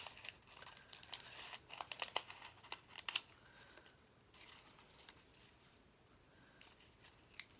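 Scrapbook paper being cut in half, with a few quiet crisp snips and rustling crinkles clustered early on, then softer handling noise, close but faint with no talking.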